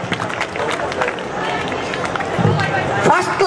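An audience at a school session-opening event claps to welcome students receiving results, producing a dense, continuous wash of applause and crowd noise with voices mixed in.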